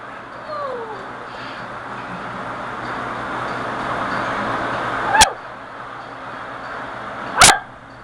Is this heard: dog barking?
yes